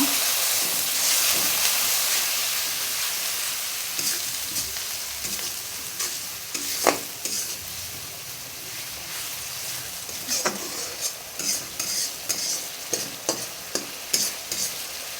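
Bengali prawn curry spice paste fries with a splash of water, a loud steamy hiss that eases into a steady sizzle punctuated by repeated scraping stirs of a spatula against the pan.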